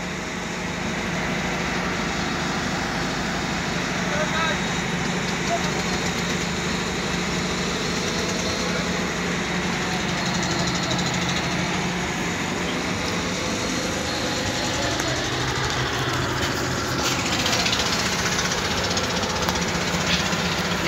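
A boat motor carrying motorcycles across a river near a ferry ghat runs steadily and loudly throughout, a continuous rough, knocking engine drone with no pauses.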